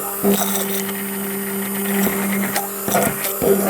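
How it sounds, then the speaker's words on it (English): A stick blender whirs steadily in a kaolin clay and aloe face mask mixture, a close, continuous motor hum with intermittent clunks and scraping bursts as it moves through the paste. "So you just stick your stick blender into the mixture."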